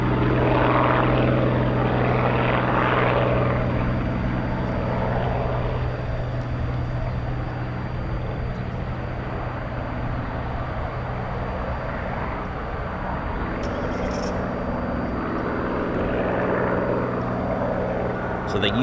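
A Hawker Hurricane, a piston-engined propeller fighter, drones overhead above the hangar at RAF Coningsby, a broad steady engine roar that swells slightly and holds throughout, with background voices beneath it.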